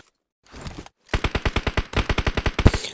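Rapid automatic gunfire from a battle royale video game, a short burst followed by a long, evenly paced string of loud, punchy shots at close range.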